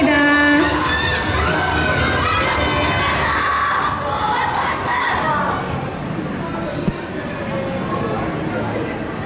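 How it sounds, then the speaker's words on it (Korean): A large crowd of fans screams, cheers and shouts continuously at a red carpet photo session in Yongsan, Seoul, for the Demon Slayer: Infinity Castle premiere, loud and close, with high-pitched shrieks over a steady roar. "여러분들 너무 많이 응원해주시고 함성 외쳐주셔서 분위기가 후끈 달아오른 것 같습니다"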